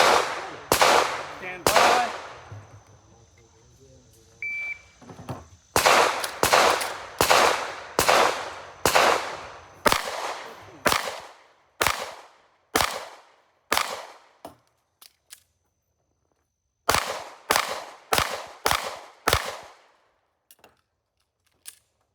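Pistol shots ring out during an IDPA shooting stage, loud sharp reports fired in rapid strings with short pauses, including a brief lull around a reload, then further bursts and a few final scattered shots.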